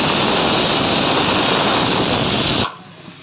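Masala frying in a pan for rasam, a loud continuous sizzling hiss that cuts off abruptly near the end, leaving quiet.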